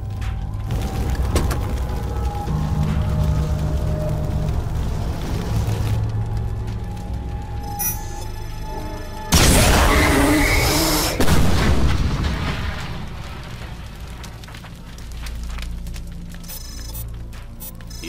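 Heavy cannon fire booms repeatedly in rapid succession, loud and close, with rumbling blasts layered over a constant background roar.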